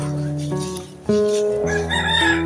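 A rooster crows nearby during a sweet potato harvest, a drawn-out strained call with a few harmonic breaks, standing out clearly over a quiet outdoor background.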